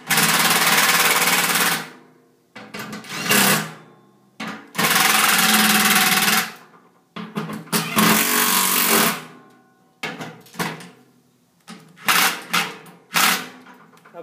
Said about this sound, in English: All I'm going to do now is tighten up these bolts.